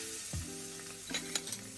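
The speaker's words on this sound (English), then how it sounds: "Put it on a frying pan on medium-high heat and cook until it is completely cooked through." Steady sizzling of chicken frying in a pan on medium-high heat, with a couple of brief clinks and scrapes partway through.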